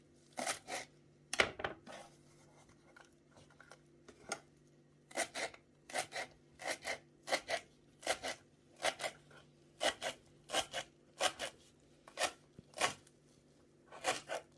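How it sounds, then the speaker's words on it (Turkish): Quick bursts of knife chopping coriander and purple basil on a board, irregular clusters of crisp cuts repeating steadily, close by, no talking. "Kişniş ve kırmızı rehan doğrayalım."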